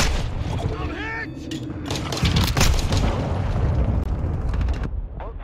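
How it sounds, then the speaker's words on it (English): A hostile cruise missile strike in Call of Duty: Modern Warfare II multiplayer, a loud, close, rumbling blast with heavy low-end boom that swells and sustains amid gunfire and game sounds, with radio-style voices over it. "Hostile cruise missile incoming."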